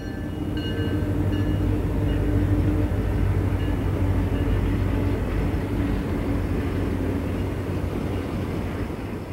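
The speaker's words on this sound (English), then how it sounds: "The train passes the International Salt Mine." A heavy Penn Central freight train rolls past the International Salt Mine with a loud, continuous low rumble and rattle that holds steady from start to finish.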